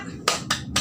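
Three sharp, crisp claps spaced evenly in quick rhythm, a school class clapping in unison, close and distinct.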